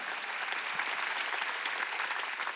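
A church congregation claps during a Wednesday worship service, a dense, steady wash of applause from many hands that fills the room evenly without any speech over it.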